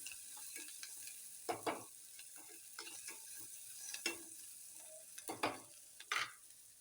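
Cauliflower with red chili powder frying and being stirred in a pan, making a soft, steady sizzle broken by repeated scraping and stirring strokes, close up with no talking.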